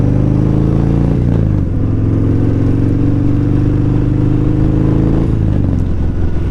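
A new motorcycle's engine rumbles loud and close, steady throughout with slight shifts in pitch as the throttle changes.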